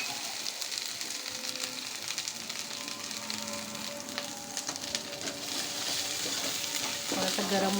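Chicken masala with coriander powder and garam masala frying in a pan, a steady close sizzle with scraping stir strokes throughout, no talking.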